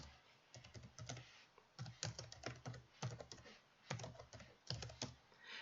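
Close, quiet clatter of fingers typing code on a computer keyboard, coming in quick clusters of keystrokes separated by brief pauses, with no one talking.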